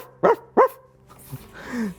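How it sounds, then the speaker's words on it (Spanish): A dog gives two sharp, close barks in quick succession at a children's storytime, followed by softer voiced sounds. "no, Bartolito, eso es un perro."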